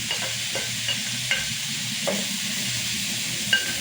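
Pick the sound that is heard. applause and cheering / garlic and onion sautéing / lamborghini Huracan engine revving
garlic and onion sautéing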